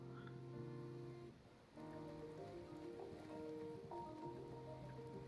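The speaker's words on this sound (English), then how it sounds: "It's probably raining, so I can't do this now." Rain in the video game Blue Reflection: a soft, steady patter of rainfall on surfaces, quiet and continuous beneath sustained tonal background music.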